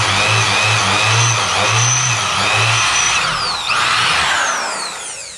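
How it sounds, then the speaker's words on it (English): A power drill bores a larger hole for a mounting screw while installing an LED rock light kit, its motor whining up and down in pitch, loud and close. "we're going to drill obviously a bigger hole so our mounting screw fits"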